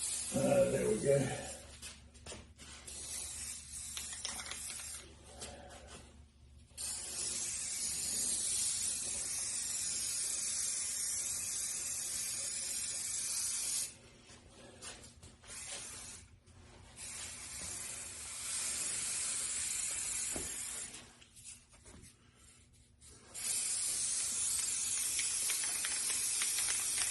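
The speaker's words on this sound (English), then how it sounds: "This can's a little old, so it don't want to spray very well." An old aerosol spray can sputters in hissing bursts of uneven strength while work goes on around a 1971 Chevrolet C10 pickup, with pauses between sprays and some talk in the background.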